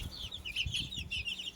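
Mother hen with her chicks, a close series of soft low clucks paced in a steady rhythm beneath high peeping chick chirps, with no voices.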